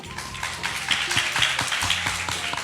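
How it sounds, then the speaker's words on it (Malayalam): An audience claps for an eight-year-old singer, a run of scattered, uneven hand claps at moderate distance, fairly thin rather than a full roar of applause. "എല്ലാവരും ഒന്ന് കൈയടിക്കുക."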